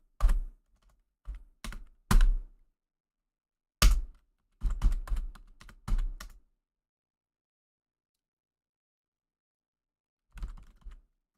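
Hard, close keystrokes on a computer keyboard come in isolated taps and short bursts separated by silences, loud and dry with no talking.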